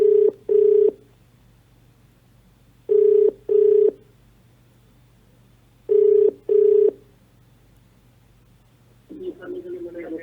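Telephone ringback tone on a live call to the Banda CMO: three pairs of steady double rings spaced about three seconds apart over a low background hum, then a voice begins to speak at the end.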